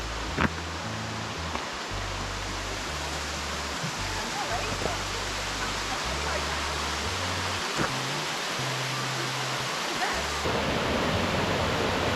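A steady rush of falling water in the Great Smoky Mountains fills the scene, broad and constant like a nearby waterfall, with low rumbling patches underneath.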